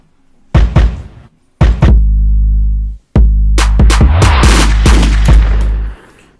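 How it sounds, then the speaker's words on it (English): Gunshot sound effects placed in a dark, scary hip-hop beat, sharp cracks landing over heavy sustained bass hits, several bursts in quick succession toward the end, loud and upfront with no talking. "And those were the gunshots that I was talking about towards the end there."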